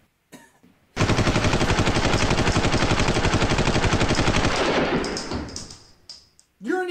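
A film gun fires a long rapid burst of automatic shots, loud and sustained for several seconds before tapering off, followed by a brief silence and a voice at the end.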